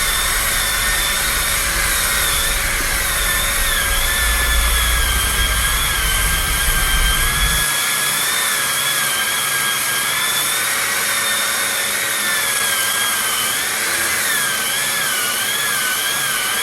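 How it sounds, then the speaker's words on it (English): A corded DeWalt DWE6401DS electric sander working the underside of a wooden table at 100 grit, likely with a Festool CT15 extractor attached, a loud steady whine with shifting pitch that drops in the low end halfway through, no voices. "Some people would ignore the backside of the table, but I find that it's good to sand it at least to 100 grit."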